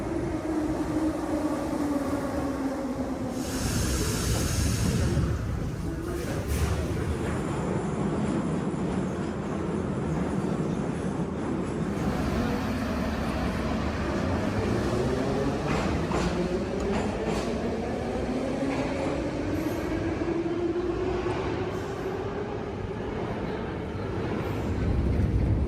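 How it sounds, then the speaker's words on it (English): A metro train moves through a Kyiv station with a steady heavy rumble, its motor whine sliding down and then rising again, close by and continuous with no talking. "This train was way too crowded, there wasn't even space to stand properly."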